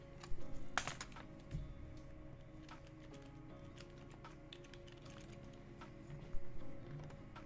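Soft, faint computer keyboard typing in a quiet room, scattered keystrokes with a few louder bursts near the start and toward the end.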